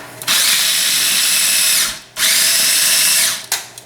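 A kitchen appliance grinds peanuts and sunflower seeds for pesto in two loud, steady bursts of high whirring, each about two seconds, with a brief pause between and a short blip at the end.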